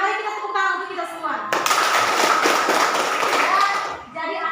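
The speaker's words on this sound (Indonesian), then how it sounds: "Mari kita tepuk tangan untuk kita semua." A class of children claps together in a burst of brisk, dense applause lasting a few seconds, framed by a teacher's voice before and after.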